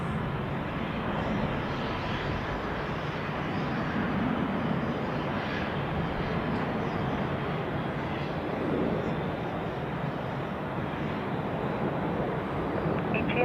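Boeing 767 jet departing Zurich Airport, a steady, broad engine roar that holds loud and even throughout with wind buffeting the microphone.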